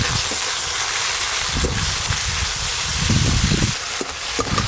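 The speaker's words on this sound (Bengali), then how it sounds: "এই যে আদা রসুন পেঁয়াজ একটু লাল লাল করে ভেজে নিয়েছি।" Ginger, garlic and onion frying in a pan give off a steady, loud sizzling hiss that runs unbroken throughout, with low bubbling crackles rising and falling underneath.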